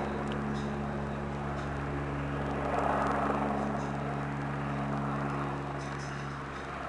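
A manned drone or helicopter passing over Cologne's Südstadt, a steady droning rotor hum with strong low tonal bands that swells slightly midway and then holds, heard from a distance without talk.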